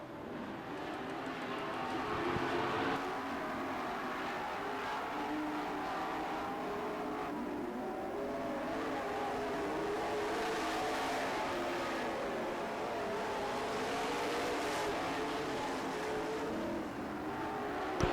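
Race cars run side by side lap after lap on a short track, a steady droning engine roar that swells and fades as they circle, heard from a distance with no talk over it.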